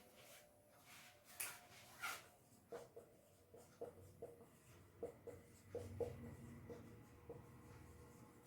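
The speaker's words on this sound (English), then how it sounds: "I will be writing on the board" Chalk or marker writing on a classroom board during an English lesson, a series of short, faint taps and strokes in an irregular rhythm, fairly close in a quiet room with no talking.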